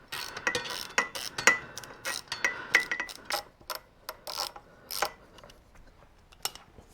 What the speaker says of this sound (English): Let's undo those pinch bolts first